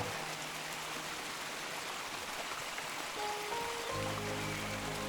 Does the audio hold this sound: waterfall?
yes